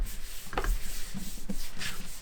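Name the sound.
burnishing paper down along the edge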